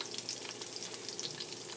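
Asparagus frying in hot oil on a stovetop at medium heat, a constant close crackling sizzle with scattered bright spits and pops, no voices.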